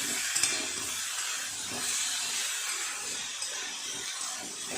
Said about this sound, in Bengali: খুব ভালো করে একটু মিশিয়ে নেব সবজির সাথে আদাটা। এইভাবে একটু নেড়ে চেড়ে ভেজে নেব।